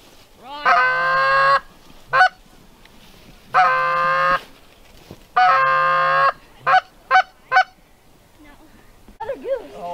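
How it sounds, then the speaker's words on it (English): Several geese honk loudly and close by during a fall goose hunt, giving long repeated calls followed by short sharp honks, with quiet gaps between them and no talk. "Another goose."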